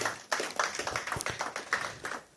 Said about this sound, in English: please, another round of applause for the NBCC